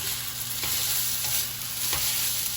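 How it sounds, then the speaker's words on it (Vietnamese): Beef noodles stir-frying in oil in a pan: a continuous close sizzle broken by a few sharp scraping stirs, with no voices. "Rồi mình xào nó."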